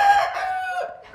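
A rooster crows on a small farm, one long drawn-out call rising and holding before tailing off, fairly clear and close, with a second crow beginning at the very end.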